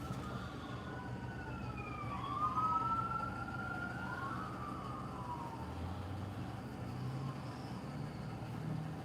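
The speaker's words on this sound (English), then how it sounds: "Whoop, whoop. That's the sound of the police." A police siren wails from a distance, rising and falling faintly over steady road traffic noise, with no voices.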